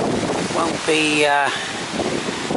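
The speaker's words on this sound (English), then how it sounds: "Now it is windy today" Steady wind roars and buffets the microphone throughout on a woodland walk at Coed Aber Artro, with a person speaking briefly over the rush of air.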